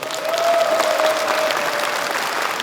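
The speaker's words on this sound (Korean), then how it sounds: "박수를 크게 한번 쳐주시기 바랍니다" A forum crowd breaks into loud, sustained applause, a thick roar of clapping from many hands that holds strong, with a brief tonal whine running through the first half.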